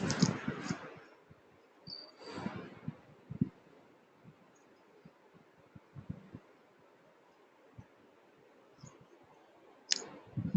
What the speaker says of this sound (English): Click on next.